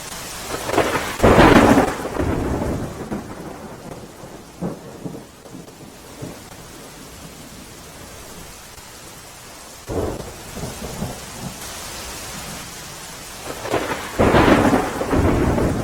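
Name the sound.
heavy rain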